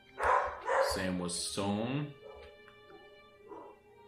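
A pet dog barks downstairs in a house, a few loud, sharp barks in quick succession followed by fainter yips, with a person talking over it.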